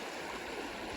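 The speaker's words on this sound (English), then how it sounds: "creek is beautiful. I think this is Mill Creek." A mountain creek rushes and flows continuously nearby at a campsite, its steady watery hiss filling the brief moment with no voices.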